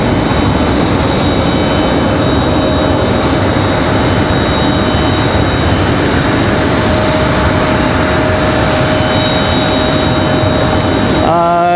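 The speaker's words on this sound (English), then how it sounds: "enjoy the sounds of the airport and a little sunset." Aircraft at Raleigh-Durham International Airport at sunset: a loud, continuous roar of jet engines fills the whole stretch with a steady whining tone, and the pitch shifts sharply at the very end.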